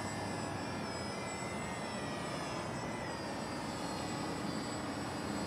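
A Walkera Furious 320 quadcopter drone hovering and climbing outdoors, its rotors giving a steady, whining buzz with a constant broadband rush, moderately distant and even throughout, with no talk.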